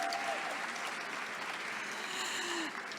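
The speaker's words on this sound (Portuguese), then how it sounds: "por favor, aplaudam" Steady applause from an audience at a book fair panel welcoming a screenwriter, loud and even across the whole stretch, with brief voices rising faintly beneath it.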